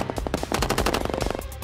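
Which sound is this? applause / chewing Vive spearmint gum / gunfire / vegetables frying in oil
gunfire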